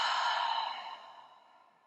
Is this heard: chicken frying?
no